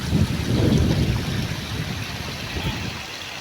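A shallow river in Osorio, Trece Martires, Cavite flows steadily, a broad low rushing wash with wind buffeting the microphone and no talk.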